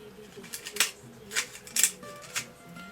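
Scissors cut a discarded plastic water bottle in several short, crisp snips spaced about half a second apart, close and fairly quiet, with faint crinkling of the plastic between cuts.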